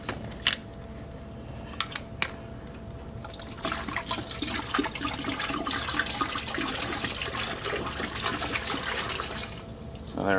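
White grape peach juice poured from a 64-ounce bottle into a big pot, a continuous gurgling splash of liquid filling the vessel after a few clicks and knocks, with no talking.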